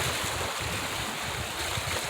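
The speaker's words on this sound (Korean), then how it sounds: "조용한 파도 소리와 함께" Quiet ocean waves at sunrise, a steady soft wash of surf with wind-like hiss, faint and continuous, with no voices.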